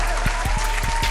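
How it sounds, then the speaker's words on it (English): Scattered hand claps mix with a steady crowd hiss, a few sharp louder claps standing out close by within about a second, with no talk over them. "Clap it up. Clap it up."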